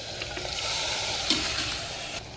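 Mutton fries in masala in a pan, a steady close sizzle with a few light stirring clicks, no voices.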